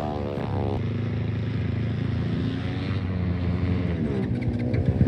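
A race car at full throttle on a single qualifying lap at a track in Welland, Ontario, with a loud steady engine drone whose pitch climbs and shifts through gear changes.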